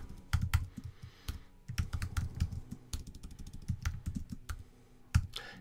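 Rapid clicky typing on a computer keyboard entering a sudo terminal command in Ubuntu on a Mac, steady bursts of close, crisp keystrokes with short pauses and no talking.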